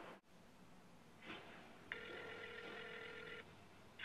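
A telephone call rings out once as a faint, steady electronic tone lasting over a second on the line, set against quiet hiss with a brief click before it; no one speaks.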